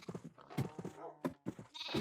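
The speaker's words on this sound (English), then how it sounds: "Baby sheep can't climb ladders?" Minecraft sheep bleating, several short wavering bleats in quick succession, close and clear over about two seconds with brief gaps between calls.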